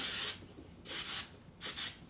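Three hissing bursts of hair spray from an aerosol onto curled short hair, close by, each lasting about half a second with short pauses between.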